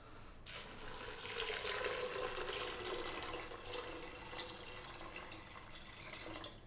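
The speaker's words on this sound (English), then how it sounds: "Now we're going to add some water." Tap water pouring steadily into a large pot for cooking rice and peas, a continuous hissing splash heard close up and on its own.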